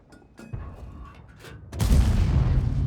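A tank cannon fires in World of Tanks, a heavy booming shot that swells at the midpoint and rolls on loudly to the end, preceded by quieter thumps and game noise.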